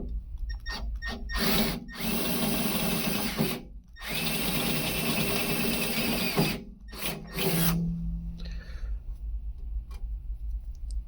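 A power drill bores a 7/16 inch hole for a threaded rivet nut insert, running in several loud bursts with brief stops between them and a few quick ticks near the end.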